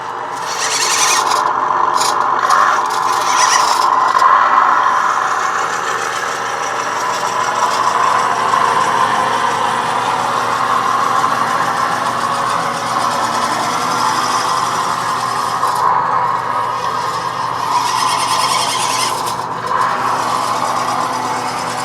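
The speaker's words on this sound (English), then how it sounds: "So now when I'm going in reverse, the DAS Micro thinks I'm going in forward, and that's where I get the good sound effect" Simulated engine drone from a DAS Micro sound module in an RC truck running on a 7.4 LiPo, a steady loud continuous hum with slight rises and dips, heard on its own without talk.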